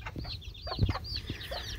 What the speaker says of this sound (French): le reste, c'est des petits poussins qui viennent de mes autres poules